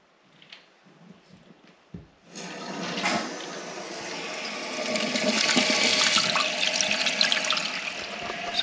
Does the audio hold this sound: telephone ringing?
no